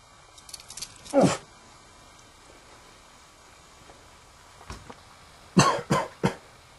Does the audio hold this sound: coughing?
yes